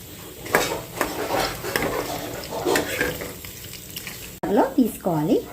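Cumin and garlic fry in a pan for gongura chutney with a steady, close sizzle and a few clinks; a voice speaks over it near the end.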